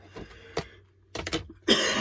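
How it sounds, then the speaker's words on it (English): A few short, rough coughs spaced apart, close by, with a brief burst of throat noise at the end. "All of a sudden I'm coughing"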